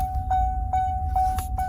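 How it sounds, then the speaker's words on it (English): A 2011 Chevy Colorado's electronic chime repeats at a steady pace, four clear beeps about half a second apart, with faint clicks in between. "you can hear it right now chiming"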